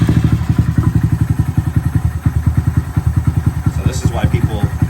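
A Honda Monkey motorcycle engine runs after starting, its single cylinder thumping in a rapid, even, loud idle close by, with a faint voice briefly over it.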